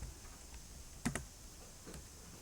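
Keys clack on a computer keyboard while a Java variable is typed, a quick pair of clicks standing out over faint room hiss, with a softer tap or two around them and no one speaking.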